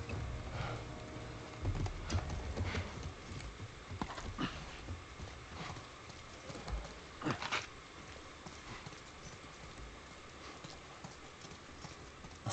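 Hooves clip-clop at an irregular walking pace in The Last of Us Part I video game, with occasional sharper thuds and a faint background hum and no talk.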